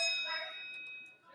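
Voting bell in a state House legislature chamber, a single bright ringing tone that sustains and slowly decays, heard alone in the room.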